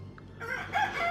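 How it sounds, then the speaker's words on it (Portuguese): A rooster crows insistently in the small hours before dawn, a fairly faint, short cry with rising harmonic calls standing alone against a quiet background. "o galo insistia na sua cantoria"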